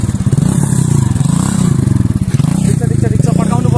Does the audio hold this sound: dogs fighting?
no